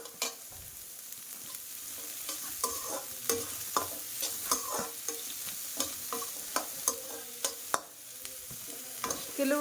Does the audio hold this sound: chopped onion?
yes